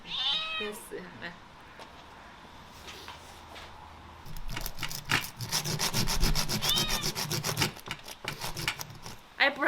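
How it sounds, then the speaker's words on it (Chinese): A hand saw cuts through a cured pork trotter with steady rasping back-and-forth strokes, loud and close from about four seconds on, while people talk and a cat meows nearby. "锯子锯。"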